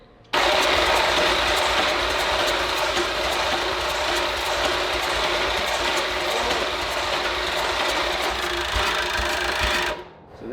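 A 12-rotor rotary engine cranks over steadily on a first start attempt, giving a loud, continuous whirring drone for about ten seconds before it stops.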